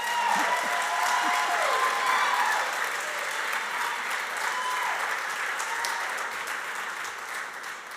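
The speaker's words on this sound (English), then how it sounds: "Can I get another round of applause for Vernon?" An audience applauds throughout at an event, a dense, steady wash of clapping that is loud at first and tapers slightly toward the end, with faint voices mixed in.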